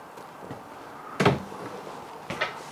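Kitchen cabinet door in a 2017 Grand Design Momentum 350M toy hauler fifth wheel RV opening and closing, two close sharp knocks with a softer click between them, no talking.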